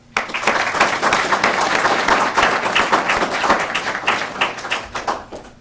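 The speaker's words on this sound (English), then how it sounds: "I'd like to have a round of applause for him" Outdoor Veterans Day ceremony crowd in Hyde Park giving a round of applause, many hands clapping steadily and loudly for several seconds, then thinning out and tapering off.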